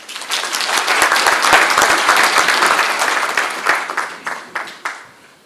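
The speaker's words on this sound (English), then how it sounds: "Let's give SATU a round of applause." Audience at a research colloquium applauding, a dense burst of clapping that holds steady, then thins into scattered claps and fades out.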